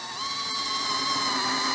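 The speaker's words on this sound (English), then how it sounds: "But we safely and successfully drilled an angled hole." A power drill whines steadily at close range as it bores an angled hole into a 4x4 piece of lumber, a short, even, high-pitched drone.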